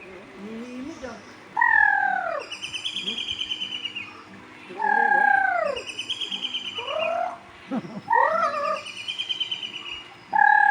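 A bird repeats loud, swooping calls several times, each followed by a rapid chattering series of notes, fairly close.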